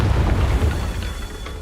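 Confringo fire spell blast in Hogwarts Legacy, a dense low rumbling boom that rolls on steadily for about a second and a half, loud and close with no voices.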